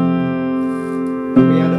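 Upright piano chord played through a worn cassette-tape effect with hiss, sustained and slightly wavering, then a fresh note struck near the end, close and alone.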